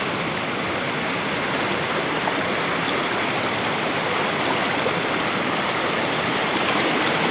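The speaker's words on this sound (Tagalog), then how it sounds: "Hindi malakas lang talagang agos." A strong river current rushes steadily and loudly throughout. The broadband roar of churning water is continuous and close, with no breaks and no voices over it.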